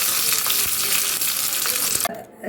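Cashew nuts and raisins sizzle steadily in hot oil in a pan, a loud, even frying hiss that cuts off abruptly near the end.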